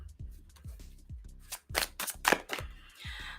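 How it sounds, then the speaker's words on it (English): Tarot cards are shuffled in several quick riffles, with soft thumps and crisp fluttering bursts of card edges close by and no talking. "Let's do another shuffle."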